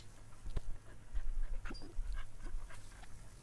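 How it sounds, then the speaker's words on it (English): A dog in the farming video game Farmer's Dynasty pants in quick rhythmic breaths, with a few soft whimpering sounds, fairly close over a low background hum. "There's my dog."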